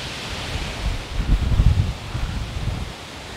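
Wind gusts through a kitchen garden of tall tomato plants and sunflowers, a soft rushing rustle of leaves that swells in the middle and then eases, with low wind rumble on the microphone and no voices.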